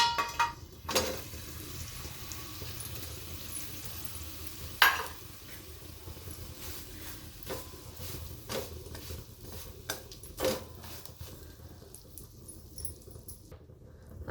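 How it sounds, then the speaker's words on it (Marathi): Jaggery melts with a little ghee in a pan for tilgul laddu, giving a soft steady sizzle and scraping stir strokes, with a few sharper knocks of the spoon against the pan. "आता गुळ आपला वितळला आहे आता आपण याचा पाक करणार आहे"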